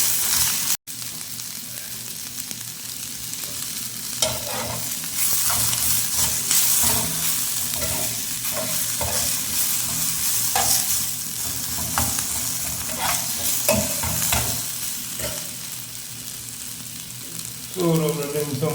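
Tomatoes sautéing in oil in a pan with green chillies for a potato dal curry, a steady close sizzle with intermittent stirring scrapes throughout.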